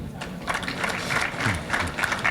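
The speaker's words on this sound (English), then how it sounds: "Can we please have this resounding applause for an elder statesman and an icon?" Audience applause greets an elder statesman at a 60th birthday gathering, a steady wash of clapping that holds at a moderate level for a couple of seconds.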